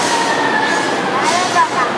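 A Shanghai Metro Line 1 train rumbles loudly and steadily, with faint high squealing tones drifting over the constant roar of the ride.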